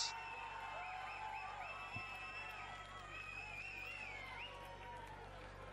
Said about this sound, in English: you can hear the roar of crowd